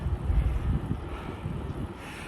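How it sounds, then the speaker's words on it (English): Gusty wind buffets the microphone outdoors beside a river bridge under repair, a low rumbling roar that swells and eases steadily throughout with no voices. "Sorry if you hear some wind"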